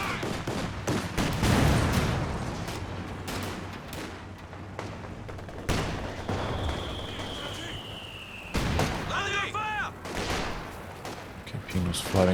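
Machine gun fire from a Company of Heroes 2 battle crackles in bursts of sharp shots alongside heavier booms and a whistling shell, with a voice talking throughout.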